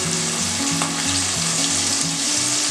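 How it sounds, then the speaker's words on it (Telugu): Food for a Nellore-style fish curry fries in a pan, giving a close, loud, unbroken sizzle that stays even from start to finish, with no voices. "వేగుతుందండి."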